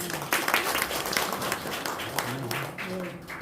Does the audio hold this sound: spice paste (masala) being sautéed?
no